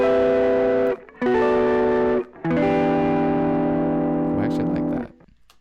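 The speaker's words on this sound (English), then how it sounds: "Ableton even has the new pedal distortion." A lo-fi music passage run through Ableton Live's pedal distortion effect plays sustained, fuzzy chords in three phrases separated by brief gaps, the last chord held longest before fading, with no talking.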